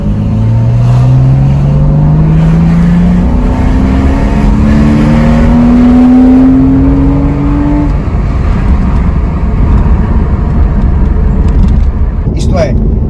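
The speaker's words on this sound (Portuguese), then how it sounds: "com este motor atmosférico, capaz de fazer 7 mil rotações, e com as pressões que tem que chegar e sobe, e com aquela sonoridade atmosférica da Porsche" A Porsche Cayman 2.7 with a naturally aspirated engine revs loud and close. Its pitch climbs repeatedly through rising pulls over several seconds, and a voice talks over part of it.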